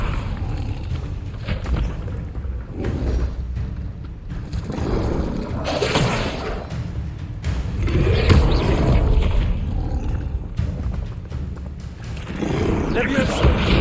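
Spell effects from a Levioso cast in the PS5 game Hogwarts Legacy, heard as booming whooshes and thuds layered under game music and speech, with several surges building over the stretch.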